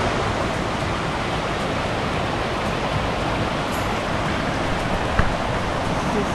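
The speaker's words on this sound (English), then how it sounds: "This is some rushing water." Continuous, loud rushing water at Elabana Falls in a rainforest setting, a dense, even hiss of falling water filling the whole stretch without pause.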